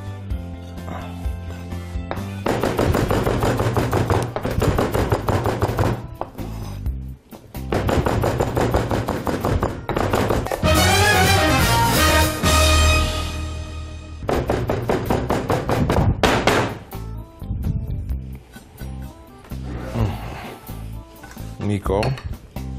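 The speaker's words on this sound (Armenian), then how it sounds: "Այս նուրբ մասերից կկտրատենք, հարկավոր շատ մանր կտրատել" A knife chops leafy herbs finely on a board in close, rapid bursts of thudding taps separated by short pauses, with a person speaking in between.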